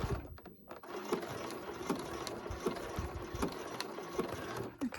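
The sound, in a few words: sewing machine tacking an elastic waistband into position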